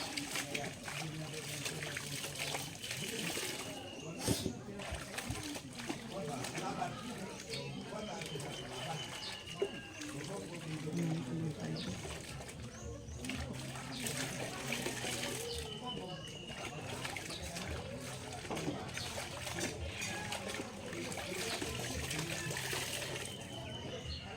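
Water pours and trickles continuously while laundry is washed by hand during a fiesta, with splashes, doves cooing nearby and people talking in the background.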